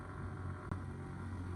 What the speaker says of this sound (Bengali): গাড়ির নয়েজ অনেক হচ্ছে, ইঞ্জিনের উপরে অনেক চাপ পড়ছে